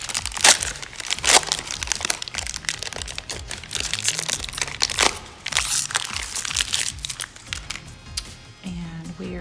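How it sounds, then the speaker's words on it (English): Model Magic modeling clay package being cut open, with dense plastic crinkling, crunching and snipping close up for several seconds and a sharp crack partway through. "the first thing we're gonna do is cut open our model magic"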